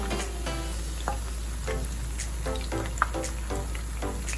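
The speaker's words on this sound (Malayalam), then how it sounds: "ചെറിയ ഫ്ലെയിമിൽ ഫ്രൈ ചെയ്തെടുക്കാം" Jalebi fry in oil over a low flame, a continuous soft sizzle dotted with crackling pops and bubbling bursts, close by, with no talking.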